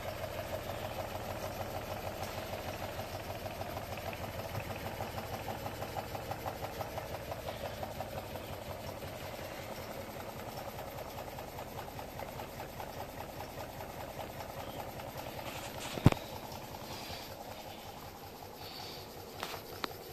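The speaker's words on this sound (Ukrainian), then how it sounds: "Ось такий двигун у мене вийшов." A homemade gamma-configuration Stirling engine turning a generator runs steadily at about 390 rpm, a faint, even mechanical chugging with fine rhythmic ticking throughout and a single sharp click near the end.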